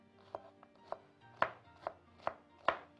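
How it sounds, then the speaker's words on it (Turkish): A knife chops onion finely on a cutting board in a home kitchen, giving six or seven sharp, clear taps in an uneven rhythm with a faint background hum. "Hurda hurda doğrarız."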